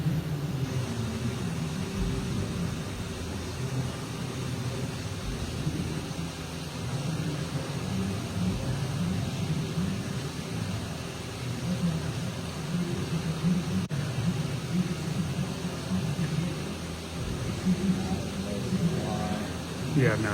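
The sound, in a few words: Haas VF3 CNC mill cutting an L-shaped slot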